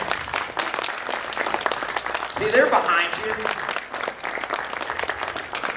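Audience clapping at a carnival show, a steady wash of applause running throughout under the performer's voice and crowd chatter, with a brief whistle-like tone partway through.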